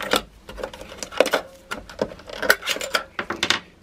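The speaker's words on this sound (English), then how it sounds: "First thing we're going to do is take the batteries out." Batteries being pried out of a kitchen scale: a quick run of small plastic clicks, snaps and rattles, close and uneven, with no voices.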